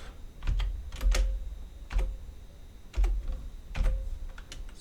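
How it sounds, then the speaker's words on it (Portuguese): Heavy keystrokes on a stiff computer keyboard come in uneven clusters, with key clacks and occasional thumps of larger keys, close and fairly loud, with no voices. "esse teclado é duro para escrever"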